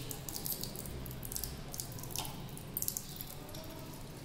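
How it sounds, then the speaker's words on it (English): Water being poured into concentrated hydrochloric acid during a chemistry practical, a faint, steady trickling and dripping pour heard up close with no talk. "first we add some amount of water to make it dilute HCl"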